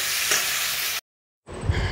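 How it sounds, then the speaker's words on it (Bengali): Food sizzles and fries in a pan on a low flame, a close hissing crackle that cuts out briefly to silence before returning. "এটা ভাজা ভাজা হতে থাক।"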